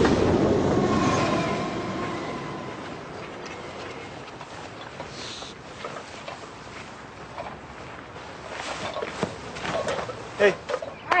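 A train rumbles past on the track near a call box, loud at first and then fading into a rhythmic clickety-clack with scattered clanks as it rolls on.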